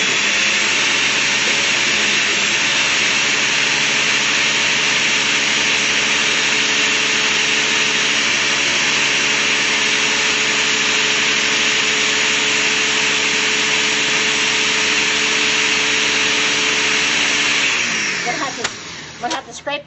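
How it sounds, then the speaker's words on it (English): A kitchen mixer whirs loudly and steadily as it blends frozen banana, apple, berry and grape into ice cream, holding one even drone before it slows and stops at the end. "let me go ahead and start mixing this."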